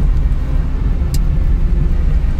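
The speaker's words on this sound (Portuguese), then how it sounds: "Agora é meio-dia e aqui tá trânsito." Midday street traffic on the Santa Efigênia viaduct in São Paulo, a continuous close rumble of car engines with a brief sharp high sound partway through and no speech.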